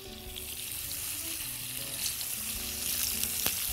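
Salmon fillets sizzle steadily in hot oil in a pan seasoned with salt, pepper and lemon slices, a close, continuous frying crackle with faint stirring and no talk.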